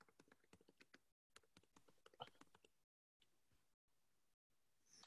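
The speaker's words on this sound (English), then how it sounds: "Sorry, I'll start typing as well." Typing on a computer keyboard during an online office-hours call, heard as quiet, close, irregular clusters of key clicks that pause briefly and then resume, with no talking.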